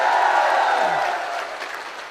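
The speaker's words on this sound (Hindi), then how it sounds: "मैं तो चाहता हूं आप सब लोग इस शाहपुरा के नौजवान विधायक के लिए जोरदार तालियां बजाओ।" A crowd at an outdoor Congress party political rally in Jaipur claps in a broad, steady wash of applause that gradually fades out.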